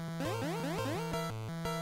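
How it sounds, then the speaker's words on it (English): Acid attack sound effect from the Game Boy game Pokemon Blue: a short, chiptune-style burst of quickly repeated rising bleeps over a pulsing low buzz, moderately faint and alone. "That's the sound of acid."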